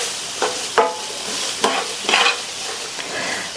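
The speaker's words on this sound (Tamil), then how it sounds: "உப்பு சேர்த்துட்டு நல்லா மிக்ஸ் பண்ணி விட்டுருங்க." A frying mixture seasoned with salt is stirred in a hot pan. Several distinct close scraping strokes cut through a loud, continuous sizzle, with no talking.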